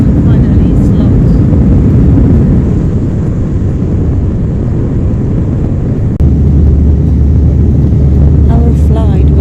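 Airliner cabin noise on a flight to Porto: a dense, steady low roar throughout, with a deeper engine hum swelling in partway through and faint bits of voice over it.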